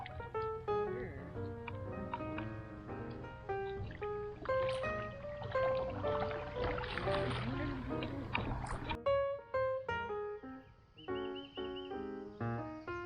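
A kayak is paddled downstream on the spring-fed Ichetucknee River, with steady rhythmic paddle strokes and water swishes under a constant outdoor hum and some bright, high-pitched tones.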